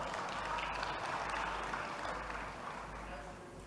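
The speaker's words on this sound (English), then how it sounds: "So let's give a big round of applause to Umnoto." Sustained applause from members seated in a provincial legislature chamber during a state of the province address, a dense steady wash of clapping that holds at an even level and eases slightly toward the end.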